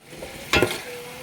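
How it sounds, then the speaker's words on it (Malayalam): Tomatoes being stirred into biryani masala in a pan for chicken dum biryani, a faint low sizzle broken by one short burst of stirring scrape. "4 തക്കാളി ഇതിലോട്ട് ചേർത്ത് കൊടുക്കണം. എന്നിട്ട് നന്നായിട്ട് ചേർത്ത് ഇളക്കണം"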